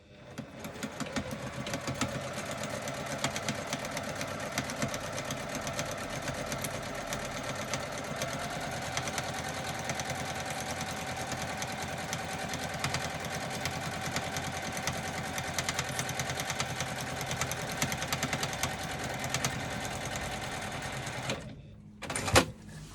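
Sewing machine stitching together fabric pieces for a bag, a steady continuous mechanical whir running for about twenty seconds before stopping abruptly, with a few brief clunks at the end.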